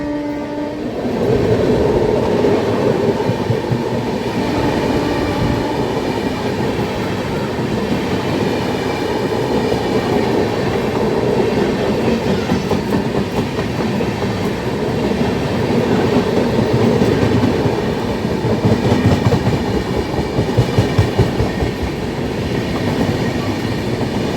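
Brahmaputra Mail rumbles past at Lakhisarai Junction, loud and close, with a steady clatter of wheels over rail joints and a sounding horn throughout.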